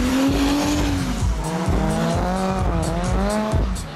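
Drift cars in a twin run at a drift show, engines screaming loud and close with rising and falling revs while tires squeal and skid continuously throughout.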